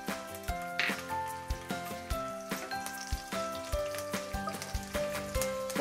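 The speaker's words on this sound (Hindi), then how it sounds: "हम सबसे पहले इसमें हरी मिर्च डालेंगे।" Green chillies dropped into hot oil for a pea ghugari, giving a soft, steady sizzle with occasional stirring taps, fairly quiet and close, with tonal background sound running throughout.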